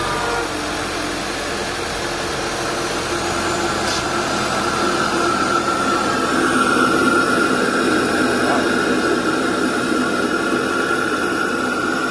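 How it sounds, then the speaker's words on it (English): A cold-started Audi A4 with a CTS intake runs steadily and loud throughout, a broad engine roar with a faint rising turbo whistle layered on top, close by with no talking. "That was a cold start, that's why you can hear the turbo spool up"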